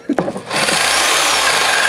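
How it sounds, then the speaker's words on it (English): A corded drill whirs loudly and steadily as its bit slips around in the chuck, preceded by a few short knocks and scrapes before the motor spins up. "It's the bit slipping around in the chucks."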